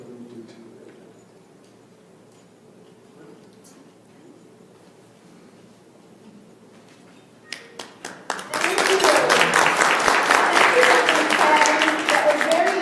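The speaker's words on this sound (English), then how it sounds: "Let's give him another big round of applause." After a quiet stretch, a few scattered claps break out and swell into steady, full audience applause for a doctor's talk on colorectal cancer, continuing loudly to the end.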